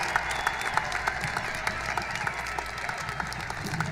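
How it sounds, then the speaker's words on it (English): A crowd claps for the top seniors at a high school graduation ceremony, sustained dense applause with individual claps standing out, loud and continuous from start to finish. "Please give them one more round of applause"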